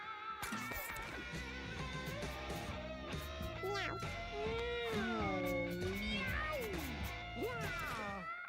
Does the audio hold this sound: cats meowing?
yes